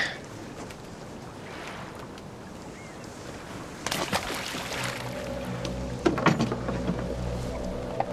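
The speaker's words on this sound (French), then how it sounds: "Démarre le moteur." A boat motor starts partway through and settles into a low, steady running drone, heard close over wind and water noise.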